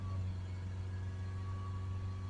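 A Land Rover 2.0 Ingenium engine held at around 3200 to 3500 RPM gives a steady, faint, even hum with a constant tone and no change in pitch, no talk.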